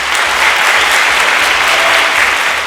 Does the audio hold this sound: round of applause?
yes